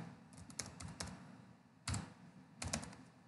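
Fingers type an IP address on a laptop keyboard in CCTV camera software, a few quiet, close keystrokes in short clusters separated by brief pauses, with no voices.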